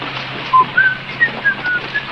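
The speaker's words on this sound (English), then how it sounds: "You have to whistle. Keep on the tune." A person whistles a short tune of several thin, separate notes, faint and set against steady background hiss.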